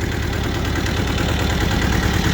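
A Hinomoto E184 four-wheel-drive Japanese mini tractor's diesel engine idles steadily up close, with a constant low rumble and mechanical chatter and no voices.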